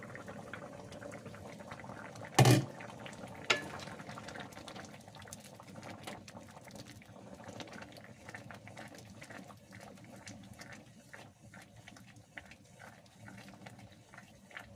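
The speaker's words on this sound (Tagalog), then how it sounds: "Kaya natin pinapakulo ng pinapakulo para yung lasa nasa kanyang sauce na." A pot of ginisang monggo, a mung bean stew, bubbles and simmers at a soft, steady boil, with one brief sharp knock early on and a gentle continuous gurgle after.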